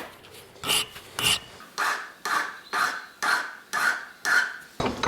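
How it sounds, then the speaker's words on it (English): A fine hand file rasps burrs off a classic Triumph Trident T160 motorcycle bolt gripped sideways in a vise, giving eight steady, evenly spaced strokes at close range with no talking. "So that's why we use a fine file."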